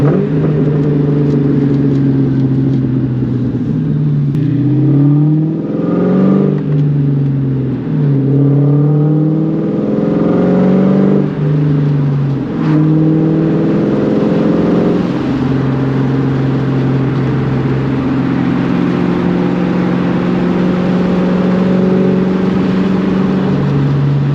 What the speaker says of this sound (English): Get you guys a little rev match in a second gear, some pops.